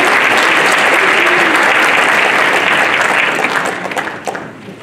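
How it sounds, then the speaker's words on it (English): A school concert audience gives the Board of Education a dense, sustained round of applause at a high school orchestra and jazz band winter performance; the clapping stays loud and full, then thins out near the end. "Let's give them a rousing round of applause"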